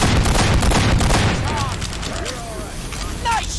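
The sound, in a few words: gunfire in Team Fortress 2 video game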